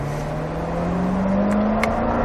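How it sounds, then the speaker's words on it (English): A car engine revs up steadily under throttle, its pitch climbing continuously, heard from inside and close, with no pause or drop in tone for a gear change. "you can squeeze the gas, go to second gear for me"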